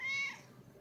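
A cat gives a single short, fairly quiet meow from close by, rising then fading out within a second.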